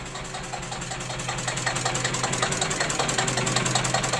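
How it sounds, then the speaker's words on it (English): Listeroid diesel engine running on road diesel and driving an axial flux alternator, a steady close thumping drone with rapid regular beats that grows slightly louder while warming up. "We got to get the engine up to temperature here."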